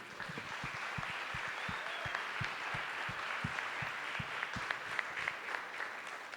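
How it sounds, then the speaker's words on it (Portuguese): A church audience at a family celebration service applauds its volunteers, a moderate, continuous round of many hands with a few sharper claps standing out and no talking. "um aplauso para os nossos voluntários, por favor"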